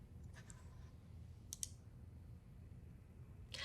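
Faint clicks from a computer mouse used to right-click a folder, a couple of soft presses in the first half and a sharper pair of clicks near the middle, close against a quiet background.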